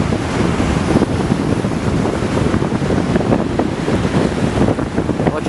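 Sea waves and wind at a pier in Hadera, Israel: a constant loud roar of surf with heavy wind buffeting the microphone, no speech.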